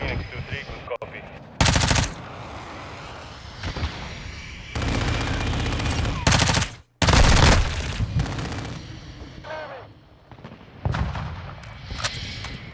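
Game gunfire from Modern Warfare 2 multiplayer, with loud bursts of automatic fire and heavy blasts cutting in between quieter stretches of distant shooting and battle noise, and a voice speaking briefly.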